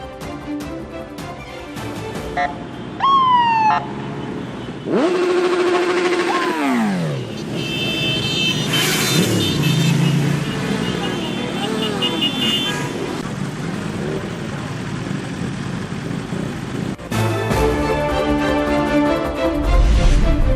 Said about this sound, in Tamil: பார்வையாளர்களை கவர்ந்த சாண்டா கிளாஸ் பைக் பேரணி.